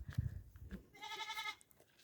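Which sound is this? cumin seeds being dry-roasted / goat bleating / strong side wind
goat bleating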